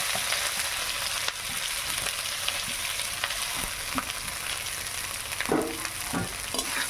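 Rice frying in a pan with cashews for pulao, a soft continuous sizzle with scattered stirring scrapes and clinks, quiet and close, no speech.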